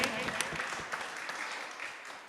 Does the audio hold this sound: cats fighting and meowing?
no